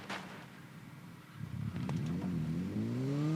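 Racing motorcycle engine in the TT Isle of Man video game, quiet at first, then revving up with rising, layered whine as throttle builds; close and steady, no talk.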